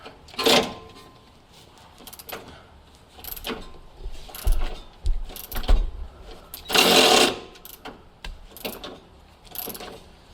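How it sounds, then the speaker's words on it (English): Metal-on-metal ratcheting and clanking as a bolt is worked loose during a coilover install on a Toyota JZX100 Cresta, in short irregular bursts of clicks and knocks with pauses between, close to the microphone and with no talking. "And finish taking off this bolt."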